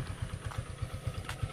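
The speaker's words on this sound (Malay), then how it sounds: "Cuma sekarang ni je lepas tukar blok tadi, dia macam ada bunyi sikit, bunyi tepet." Modenas GT128 motorcycle engine running at idle after a cylinder block replacement, with a slight tapping noise. It gives a close, quick, even putter of low pulses, and no one speaks.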